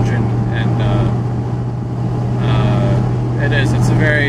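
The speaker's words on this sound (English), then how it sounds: "there's no radio, so we do enjoy the noise from the engine" A modified De Tomaso Pantera's engine drones steadily from inside the car while driving, a low constant hum under intermittent voices talking in the cabin.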